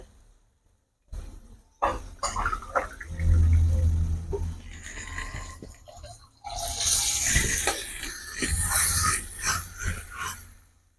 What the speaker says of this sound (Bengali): এই জলটা আমি এর মধ্যে দিয়ে দেবো